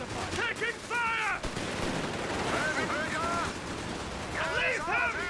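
Gunfire in the World War II strategy game Company of Heroes 3, rattling bursts and shots mixed with battlefield noise and brief voiced soldier callouts, moderately distant and continuous.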